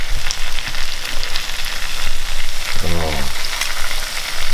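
Sliced mushrooms and crushed garlic frying in a hot pan, a loud, steady crackling sizzle throughout, close up, with a brief spoken exclamation near the end.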